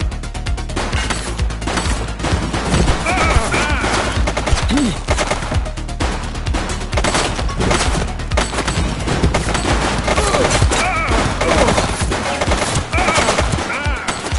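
Gunfire in the police video game The Precinct: continuous rapid, loud volleys of shots with rattling bursts throughout, dense and unbroken over a busy game soundscape.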